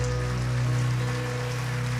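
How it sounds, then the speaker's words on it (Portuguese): A congregation applauds at a church service, a steady, dense wash of clapping that carries on without a break over a sustained musical drone. "Você pode dar um aplauso ao Senhor Jesus?"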